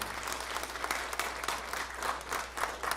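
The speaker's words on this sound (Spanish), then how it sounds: "Y le damos un fuerte aplauso a nuestro Señor" A church congregation claps in sustained applause, a broad wash of many hands with a faint low hum beneath.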